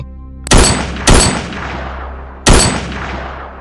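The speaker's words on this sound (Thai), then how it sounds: "เสียงปืนได้ดังขึ้นสามนัด" Three loud, sharp M1 Garand rifle gunshots ring out, two close together and a third after a pause, each followed by a long echoing decay.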